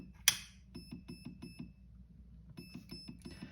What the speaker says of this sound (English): Right now you can hear the MOSFET beeping